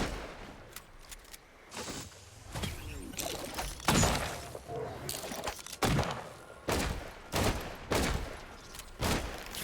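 Rapid volleys of gunfire from a player's weapon in a shooter video game, sharp loud cracks repeating in uneven bursts over roughly ten seconds, with faint talk in the background.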